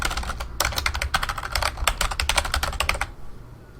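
Rapid typing on a computer keyboard while entering a web address, a dense run of close, crisp keystrokes for about three seconds before stopping, with no talking.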